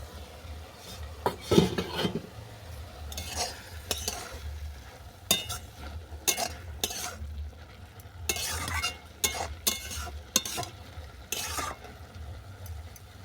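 A spoon stirs steamed greens with coconut in a covered dish, producing intermittent scraping, clinking and light rustling strokes over a faint low sizzle, quiet and without talk.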